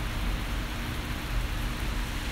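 Steady rain falls outdoors as a continuous, even hiss with a low rumbling undertone, constant throughout with no voices.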